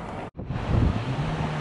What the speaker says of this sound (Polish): No i mamy morze w Łebie.